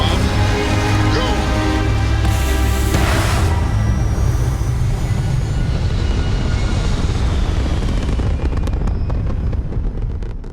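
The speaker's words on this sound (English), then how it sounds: "Ready for takeoff in 3, 2, 1, go!" Spaceship lifting off in Starfield: a loud, continuous roaring rumble of engines that swells and holds steady, with a rising whine early on and crackling bursts toward the end as it fades slightly.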